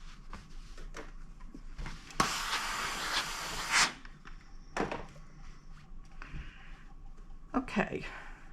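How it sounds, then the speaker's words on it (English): A steam iron pressing stiff Peltex interfacing on a fabric basket gives one loud hissing burst of steam lasting over a second, close by, among soft thumps and handling noises. "Gonna give it a good steam press."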